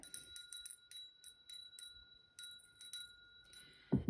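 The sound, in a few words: small bell ringing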